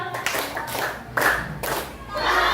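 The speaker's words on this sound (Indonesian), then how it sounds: "Kasih dengan tepuk pahamu." Schoolchildren in a classroom perform a rhythmic clapping chant, bursts of group claps in short patterned phrases with chanting voices between them.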